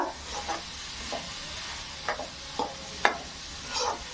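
Momo filling with chilli and garlic is stirred in a pan. It makes a soft background sizzle, punctuated every half second or so by distinct spoon scrapes and taps, close by.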